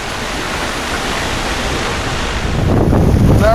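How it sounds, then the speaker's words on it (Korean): Rough seas after a typhoon: a loud, continuous roar of breaking waves and gusting wind, swelling near the end, with no voices. "파도는 높고 비바람은 계속됐다"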